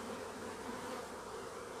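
Honey bees hum in a dense, steady drone at a hive, close and continuous without a break, with no voices over it.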